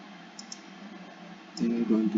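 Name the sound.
computer mouse clicking in SolidWorks CAD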